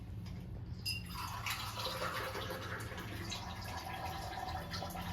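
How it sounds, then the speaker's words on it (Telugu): A glass of milk pours for tea, a soft continuous liquid trickle with a faint splash near the start, quiet and close with a low background hum. "ఇలా ఒక గ్లాస్ పాలు తీసుకొని"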